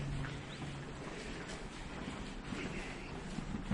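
Steady wind roaring on a coastal peninsula at Fort Morgan, Alabama, a continuous broad rushing blow with no voices.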